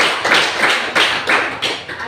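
A classroom of students claps together in a quick, steady rhythm of loud, even bursts, about three per second, after a pupil presents a lesson on standard and non-standard units of measurement.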